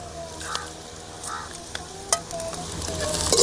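Onions and dried red chillies frying in a pan, a faint steady sizzle broken by a few scraping stir strokes and light clicks.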